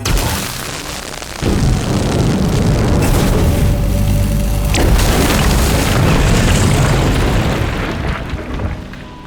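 A pneumatic cannon in the game We Happy Few fires into an office wall, giving a sudden loud boom followed by a sustained heavy rumbling roar of crumbling debris that lingers for several seconds before tapering off.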